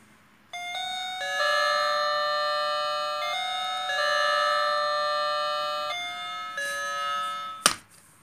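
A Mutlusan ding-dong doorbell chimes loudly and clearly: sustained two-tone electronic ringing repeats for several seconds, then stops with a short knock at the end.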